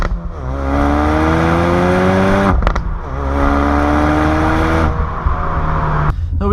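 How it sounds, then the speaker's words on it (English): A 2016 Ford Focus RS in sport mode revs hard through rising gear pulls, its engine loud and close, with sharp exhaust pops and cracks between shifts. "when you do put it in sport mode, you get some pops and cracks"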